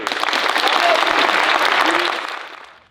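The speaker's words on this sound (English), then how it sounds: "let's just give them a round of applause" A round of applause from the audience at a poetry recitation contest, dense and loud clapping from a crowd in a hall that holds steady, then thins and fades out near the end.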